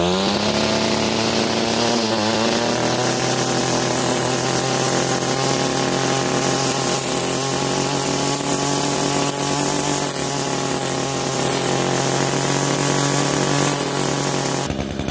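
A gasoline weed eater engine held at maximum RPM on pure gasoline, a loud, close, high-pitched two-stroke whine that runs steadily for the whole stretch with no talking.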